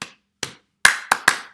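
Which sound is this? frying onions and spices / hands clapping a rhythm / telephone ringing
hands clapping a rhythm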